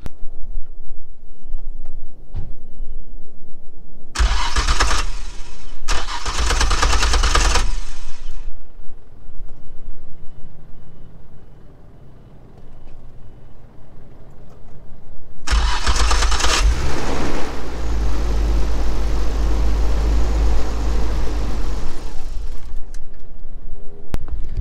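Car engine cranking and catching twice with the fuel pump fuse pulled, each start a loud burst of cranking and brief running that stalls out, the second run lasting longer, with quieter rumbling between attempts.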